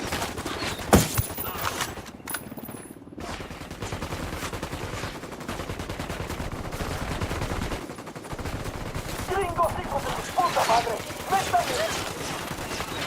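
Cutscene gunfire in the video game Ghost Recon Wildlands, with sharp rifle shots and rapid bursts that crack out irregularly over a busy background, loud and close, with voices between the volleys.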